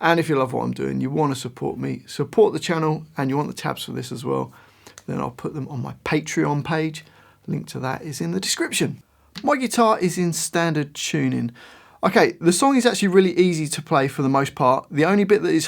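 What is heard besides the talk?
No distinct noise like a dog, phone or traffic.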